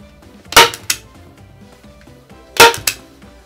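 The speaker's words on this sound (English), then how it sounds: "Then stretch your batting to the back and start to staple." A staple gun fires into batting stretched over plywood, two sharp loud snaps in quick pairs, each pair about two seconds apart, with faint handling noise between.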